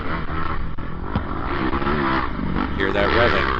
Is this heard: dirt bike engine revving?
yes